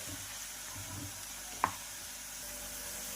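Ground masala paste fries with browned onions in oil for a Vidarbha-style tur ghugrya dish, a soft, continuous sizzle heard close with a single small tap of a utensil midway.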